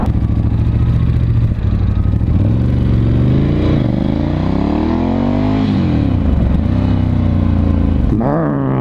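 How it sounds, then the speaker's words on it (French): A Ducati 1100 motorcycle ridden jerkily, its exhaust rising and falling in pitch as the throttle is snapped open and shut, with a loud, steady rumble and some crackling, close up and with no speech. "C'est juste pour écouter l'échappement."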